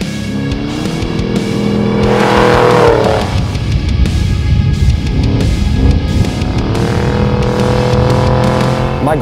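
Wide trophy trucks racing a 300-mile dirt course, a loud continuous engine roar with rising and falling revs across the clip, close and without any talk.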